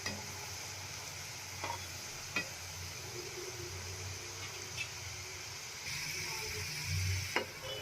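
Soft, low-level sizzle of peanut bhujia deep-frying in oil over low heat, with a few sharp clicks and pops scattered over a quiet, steady hiss.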